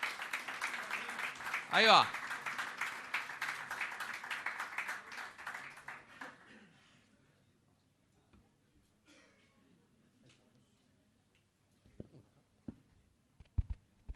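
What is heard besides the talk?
audience applause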